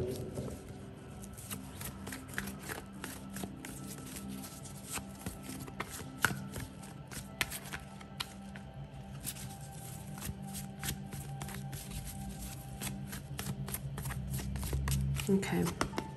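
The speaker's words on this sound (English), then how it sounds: "Let's reshuffle." Tarot cards are shuffled continuously up close, producing a steady riffle of soft slaps and flicks for about sixteen seconds, with a voice talking quietly underneath.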